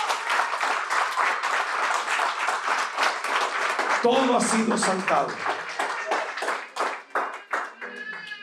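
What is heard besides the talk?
congregation applauding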